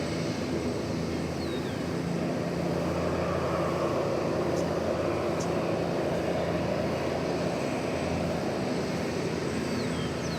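A Delta airliner taking off from runway 18 left at DFW airport gives a steady, broad jet roar that holds evenly across the whole stretch, heard from a distance.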